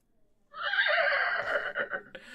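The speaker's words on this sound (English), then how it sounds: "you are now alone in a stable with Maxine the horse" A horse in a stable gives a loud, close whinny lasting nearly two seconds, a shrill quavering neigh that breaks off with a short snort and a faint knock, after near silence at the start.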